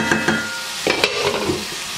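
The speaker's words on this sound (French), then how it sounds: "elles sont en train de revenir là, les boulettes là" Meatballs browning in a pan for spaghetti, a steady close sizzle with a few sharper scraping stirs of the spoon, no voices.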